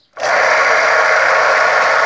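A homemade metal lathe is switched on and spins up abruptly, then runs at a steady, loud, continuous whine with a bright mechanical hum and no talking over it.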